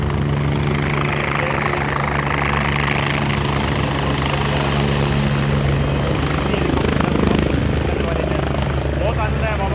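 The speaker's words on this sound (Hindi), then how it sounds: "हेलीकॉप्टर आप देख रहे हैं हेलीपैड की तरफ बढ़ रहा है।" A helicopter runs continuously at the snowy Kedarnath helipad as it approaches to land, its steady loud rotor and engine roar filling the whole stretch, with a voice talking faintly beneath it.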